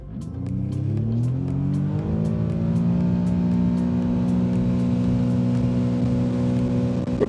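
A Sea-Doo Switch pontoon boat's jet engine accelerating, a loud close rising drone whose pitch climbs then holds steady at cruising speed, with water noise beneath and no talk.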